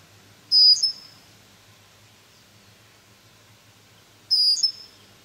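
Red-winged blackbird giving two sharp, loud calls about four seconds apart, each a bright burst standing out alone against a faint, steady low background hum.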